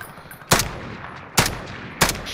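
Gunfire in the video game Warzone: three sharp, loud shots spaced roughly a second apart, each a sudden crack that quickly fades over a steady background hiss.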